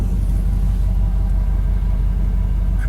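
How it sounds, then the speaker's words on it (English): A new truck's engine idles in park at a slightly raised speed, a steady low rumble running evenly throughout without talk. "Now when it's in park, it's idling a little higher."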